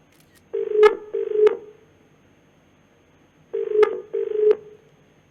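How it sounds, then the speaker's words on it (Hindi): A telephone keypad dials out to a municipal commissioner, producing two pairs of short, loud DTMF tones separated by a pause of silence, heard close and with no talk over them. "उनको हम फोन मिला रहे हैं"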